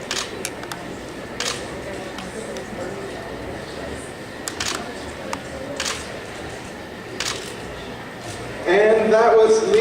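SLR camera shutters click in scattered single shots and short bursts as a costume contestant poses at a convention costume contest, crisp and close over low room murmur, with a voice speaking briefly at the end.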